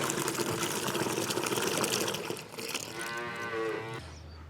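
A calf moos repeatedly at an automatic milk taxi feeder, its calls loud and close over a steady gushing, pumping background, with the noise cutting out abruptly near the end.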